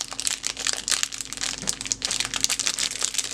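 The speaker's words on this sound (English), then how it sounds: "I actually like the sound of crinkling plastic." Plastic packaging from an elves subscription box crinkles and crushes continuously while a silicone dragon shaker mold is unwrapped, dense close crackles with no pause across the whole stretch.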